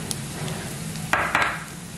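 Bhetki fish frying in hot oil gives a soft, steady sizzle, with a couple of brief, louder bursts of spattering as it is stirred or turned.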